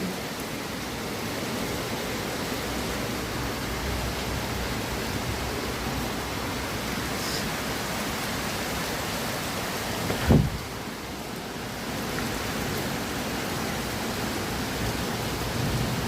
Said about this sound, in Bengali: এ দেখুন বৃষ্টি হচ্ছে, রেন